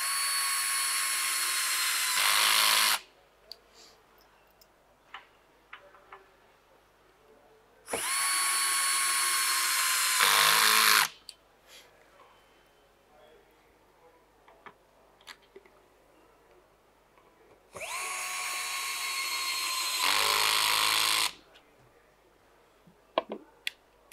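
Three bursts of a Bosch power drill driving screws, each whirring run lasting about three seconds and ending in a brief lower grind, separated by quiet pauses with small clicks and handling noises; no one speaks.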